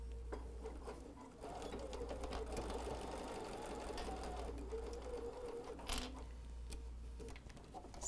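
A sewing machine stitches a quarter-inch seam on a fabric face mask with a filter pocket, its steady fast whirring stitch running close and continuous throughout with brief pauses and small mechanical clicks.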